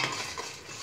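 A spoon stirs spicy tomato sauce with dried shrimp in a pot, a brief close scraping and clinking of metal against the pot over a soft bubbling simmer.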